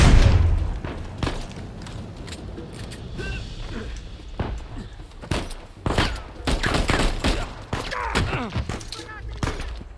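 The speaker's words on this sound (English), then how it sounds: "Oh my god, a fucking grenade." Explosions and bursts of gunfire from the video game Uncharted 4, starting with a heavy boom, then scattered close shots and rapid volleys, loud and punchy, with someone talking in between.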